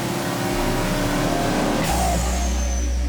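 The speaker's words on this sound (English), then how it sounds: "The engine fatigue test runs the engine for over an hour at full throttle." Ford EcoBoost engine held at full throttle on a dynamometer during an engine fatigue test, a loud sustained roar that steps up to a heavier, deeper drone partway through.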